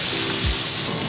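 Steak sizzling steadily in a hot pan while being basted, a continuous close, loud frying hiss with no voices.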